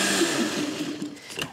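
A kitchen blender whirs steadily as it mixes salad dressing, loud and close, then winds down and fades toward the end, on a German morning show.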